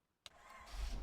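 A car engine cranks with a sharp onset and catches, settling into a steady low rumble that builds slightly in the open desert; no talk over it.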